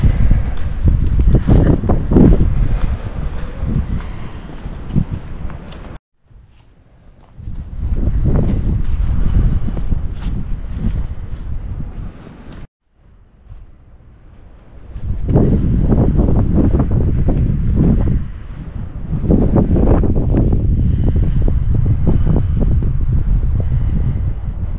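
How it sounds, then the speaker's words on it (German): Strong gusting wind roars and buffets the microphone on a mountaintop at Fürstenberg castle hill near Hüfingen in the Black Forest, with a couple of brief lulls before the blustering resumes. "Heute ist es ziemlich windig,"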